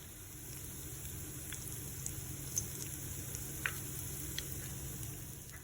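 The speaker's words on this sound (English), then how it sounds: "Wow, listen to that sizzle." Flitter jacks fry in hot lard, giving a faint, steady sizzle with a soft crackle and a few sharp pops scattered through, with no voices over it.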